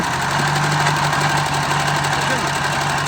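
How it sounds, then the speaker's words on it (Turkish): A homemade car's engine idles steadily after being started, a loud, constant low rumble with a faint knocking pulse and vibration, close to the microphone, with voices talking over it. "gördüğünüz aracımız şu an çalıştırdık"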